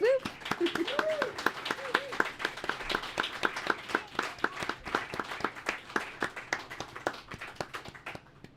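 Live audience at a show claps a round of applause for the supporting act, dense rapid hand claps close and steady with a cheer and a voice at the start.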